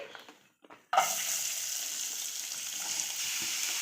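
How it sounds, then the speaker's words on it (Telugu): Onions, tomatoes and green chillies dropped into hot oil: after a quiet start, a sudden burst of sizzling settles into a steady, even frying hiss, close and alone. "ఆయిల్ వేసుకొని ఉల్లిపాయలు అండి ఒక రెండు మూడు ఉల్లిపాయలు అలాగే నాలుగు టమోటాలు ఒక నాలుగు పచ్చిమిరపకాయలు కొంచెం ఫ్రై చేసుకోవాలి"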